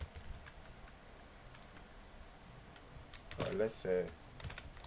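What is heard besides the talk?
typing on a computer keyboard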